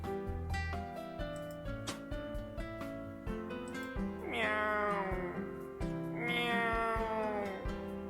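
A cat character meows in the video game WILL: A Wonderful World, a couple of drawn-out, wavering meows rising over steady background game music with soft percussive beats throughout.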